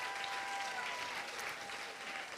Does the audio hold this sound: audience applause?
yes